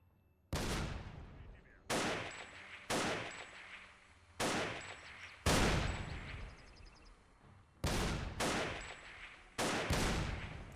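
Shotgun blasts in a video game, about eight loud booming shots at uneven intervals roughly a second apart, each with a short decaying tail, heard alone.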